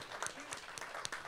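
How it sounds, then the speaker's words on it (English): Brief, faint applause from an audience at a skateboarding panel event, scattered hand claps registering as a short soft patter. "give a hand of applause for yourself"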